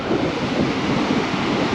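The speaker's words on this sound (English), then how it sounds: "There's a wave coming." Sea waves surge and crash against a rocky coast at the Devil's Hole, a steady, loud roar of broadband surf mixed with gusting wind buffeting the microphone, continuous throughout with no voices.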